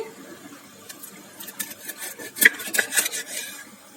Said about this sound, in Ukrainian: відрізати плавники і нарізати